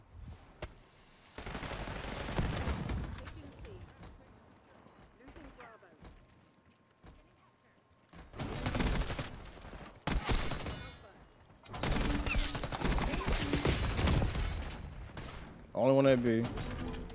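Bursts of automatic gunfire from Call of Duty Black Ops 6 multiplayer, loud dense volleys in several spells with short quieter gaps, ending in a sharp burst.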